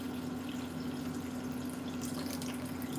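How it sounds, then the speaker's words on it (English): Kitchen tap runs in a steady, loud rush of water with a constant hum underneath, continuous throughout without pauses or talk. "I do it straight from the tap."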